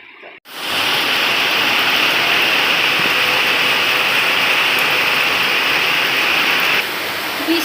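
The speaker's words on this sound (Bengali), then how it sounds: "বৃষ্টি পড়েই যাচ্ছে পড়েই যাচ্ছে কি বলবো সে কতক্ষণ ধরে পড়ছে গো" Heavy rain pours outside in a steady, dense, broadband hiss that starts suddenly and holds at a constant loud level, with no voices over it.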